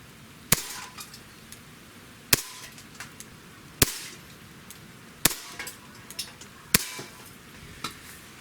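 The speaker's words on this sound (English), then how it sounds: "Now we'll just shoot 5 shots, and I'm just going to aim dead center" A Colt Defender compact 1911 pistol fires five sharp, loud shots spaced roughly one and a half seconds apart, each a sudden crack with brief echoing decay, and faint clinks of falling brass between them.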